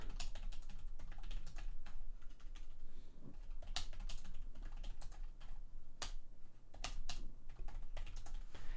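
Keys on a Logitech K780 multi-device wireless keyboard are tapped at random, giving a quick, irregular run of soft clicks close by in a quiet room.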